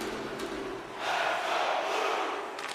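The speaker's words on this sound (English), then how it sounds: "You can feel the energy in this crowd" A simulated hockey arena crowd in a video game hockey match roars steadily, swelling louder midway in a broad, distant wash of cheering with no talk over it.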